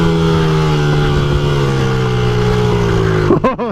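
A 1993 Honda Z50R minibike engine revs and holds a steady, buzzing idle-to-mid drone up close, then gets blipped sharply near the end with quick rising and falling revs.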